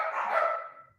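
A single dog bark or yip indoors, fairly close and moderately loud, fading out within about a second with no talk over it.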